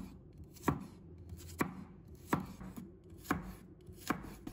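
A knife slices garlic cloves on a cutting board, giving five sharp, evenly spaced chops close by with quiet gaps between and no talk.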